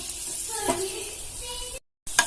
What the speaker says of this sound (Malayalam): എന്നിട്ട് ഇതിലേക്ക് ഉള്ളി ചേർത്ത് മൂപ്പിക്കാം